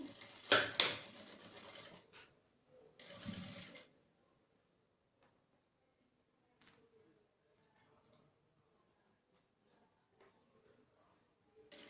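A home sewing machine set to a 3.5 stitch length stitches a finishing seam slowly on a fabric phone wallet, giving two short bursts of mechanical whirring followed by quiet handling clicks.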